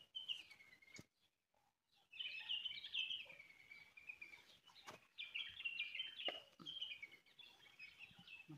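A bird calls repeatedly near Luha Falls, a series of high, slurred chirps close by, with a brief pause early on and faint rustling between the calls.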